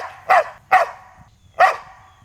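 Three loud, sharp barks come from a nearby dog, two close together and then a third after a short pause, each ringing briefly against a quiet low background.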